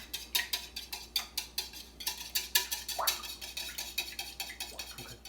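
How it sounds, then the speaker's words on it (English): Whisking wet ingredients for bacon cornbread: a quick, steady run of light metallic clicks and scrapes against a bowl, repeating in fast regular strokes, close and fairly quiet with no talk. "And now we whisk."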